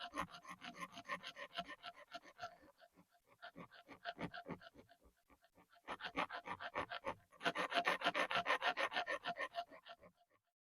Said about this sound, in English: I just rubbed off the rest using the rub stone